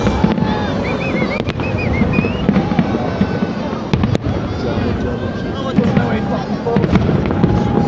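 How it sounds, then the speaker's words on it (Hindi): New Year's Eve fireworks in London crack and pop repeatedly in sharp bursts over a steady outdoor rumble, with scattered whistles and people talking in the background. "इस वक्त ये जो है वो आतिशबाज़ी का नज़ारा जो है वो रुकने का नाम नहीं ले रहा"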